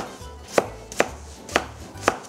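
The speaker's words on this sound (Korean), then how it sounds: "감자는 꼭 2개를 준비해 주시고요, 반으로 가르고 반으로 또 가르고 깍둑 썰어 준비해 주세요" A knife cuts potatoes into cubes for curry on a cutting board: four sharp, evenly spaced chops land close by, with quiet gaps between them.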